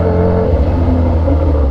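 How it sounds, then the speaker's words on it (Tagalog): A Kawasaki Z H2 motorcycle engine running close and loud, a steady deep rumbling drone with a slight rising rev at the end, heard alone without speech. "Magandang naririnig nila yung motor natin"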